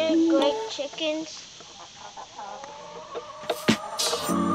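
Backyard chickens cluck and squawk close by in a busy, irregular chorus of short calls, with some louder sharp cries toward the end.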